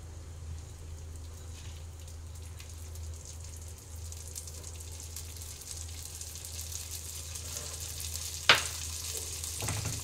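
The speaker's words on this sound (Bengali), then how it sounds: "ডালটা আমি সুন্দর করে ভেজে নেব।" Washed lentils (dal) fry in a pan for khichuri, giving a steady, soft broadband sizzle throughout, with a brief sharp clink or scrape of a utensil near the end and no talking.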